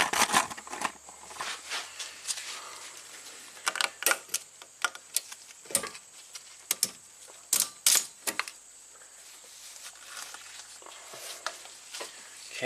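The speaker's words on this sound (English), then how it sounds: "So now we can undo this ratchet strap" A ratchet strap being released during strut work on an abandoned Audi turbo, a series of sharp clicks and ratcheting snaps, close and fairly faint, in irregular bursts.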